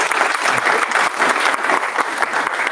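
An audience at an intern research symposium gives a loud, sustained round of applause, close and dense, lasting about three seconds without any speech over it.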